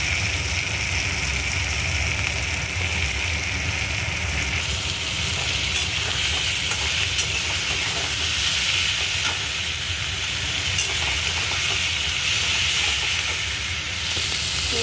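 Fried potatoes and slit green chillies sizzling and hissing in hot oil in a pan, a loud continuous crackle with scraping stirs, brightening partway through.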